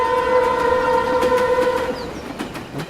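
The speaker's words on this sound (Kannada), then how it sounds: "Train is going." A train passing, its horn sounding as a sustained steady tone for about two seconds over rumbling rail noise, then fading out with some clatter.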